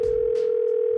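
A continuous, steady telephone tone sounds loud and close while an outgoing call waits to be picked up, with a couple of faint soft noises in the background and no talk.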